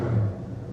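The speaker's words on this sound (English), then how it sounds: "Just listen to this exhaust." A deep, steady V8 exhaust rumble from a 1971 Oldsmobile Cutlass Supreme with a Rocket 350 engine, loud and close, with a heavy low burble that settles slightly after the first moment.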